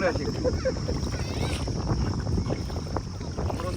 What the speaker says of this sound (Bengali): বেশ কয়েক বছর পরে ডিঙি নৌকায় এভাবে চলাফেরা করছি